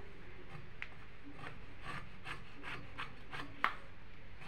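Palm pitha dough being kneaded and stirred by hand with salt, a steady soft rubbing and squishing repeated in quick strokes, close and fairly quiet, with one sharper tap near the end.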